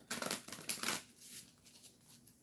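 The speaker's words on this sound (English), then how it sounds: "One more shuffle." A deck of cards being shuffled during a card reading, a brief burst of riffling and flicking close by that fades into quiet after about a second, with no talk.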